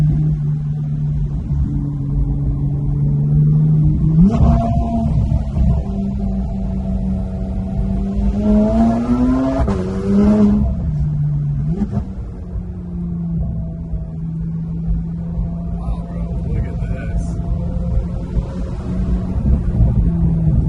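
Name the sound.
Porsche GT3 sports car engine while driving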